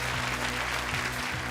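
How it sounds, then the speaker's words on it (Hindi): Audience applause at a veterinary hospital competition after scores are announced, a dense, even wash of clapping with a low steady hum beneath it. "जोरदार तालियां हो जाए।"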